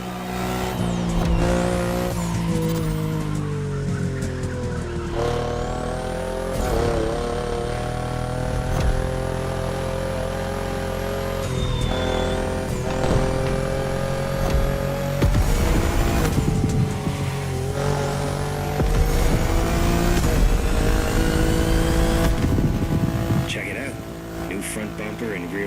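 Tuned BMW driven hard in The Crew Motorfest racing game, the engine revving and shifting up and down with tire squeal and skids, loud and continuous, while a voice speaks over it.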